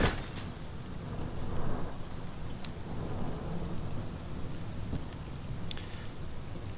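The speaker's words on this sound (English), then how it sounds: "thunder shakes the trees" Rain and thunder ambience from the video game Sunless Skies, a steady wash of rainfall with low rumbling throughout and a few sharp crackles standing out, no voices.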